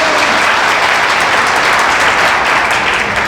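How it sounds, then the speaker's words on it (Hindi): Dense, steady applause from an audience at a public talk, many hands clapping together at close range with a continuous loud wash and no pauses. "ताली बजाइए इसके लिए"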